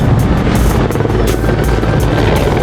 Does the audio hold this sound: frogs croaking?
no